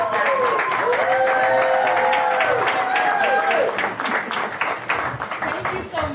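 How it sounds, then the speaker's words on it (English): Applause rises from a crowd at a neighborhood leadership breakfast, steady clapping running under a voice that speaks over it before the clapping thins toward the end. "please give a round of applause and welcome to Aaliyah Slappy"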